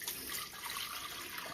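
Warm water pours steadily into a bread machine container, a short, continuous splashing trickle heard close up with no talk over it.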